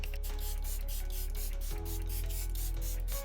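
Close-up rapid spritzing of makeup setting spray, a string of quick hissing sprays in fast rhythm, loud and without any talking.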